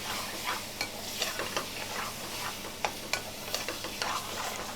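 Saag Aloo, a dry curry, sizzles and fries in a takeaway kitchen pan while being stirred, with a steady hiss broken by soft scraping clicks of the utensil, close and moderately quiet.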